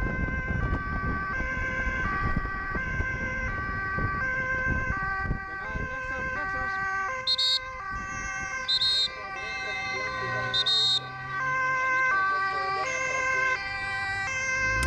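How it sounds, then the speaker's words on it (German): Ambulance siren wailing continuously and loudly at close range as the vehicle is escorted by Dutch police through a city, with brief shrill whistle bursts cutting in and traffic noise beneath. "Das Krankenwagen."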